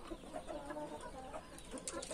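A backyard flock of chickens clucks quietly in a run of soft, irregular calls close by, low in level throughout.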